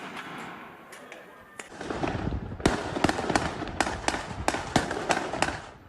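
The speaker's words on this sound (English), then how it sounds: "Palestinians pelted Jewish settlers with stones and fireworks" Fireworks are set off during street clashes in Jerusalem in a rapid burst of sharp cracks and bangs at mid distance, rising in density after a quieter start, with a faint crowd bed beneath.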